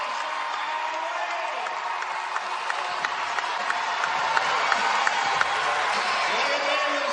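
A home crowd at a Washington women's college basketball game against Stanford stands and roars. Steady applause and cheering swell into a loud, continuous wall of noise, with a few scattered whoops and a commentator's voice faintly mixed in.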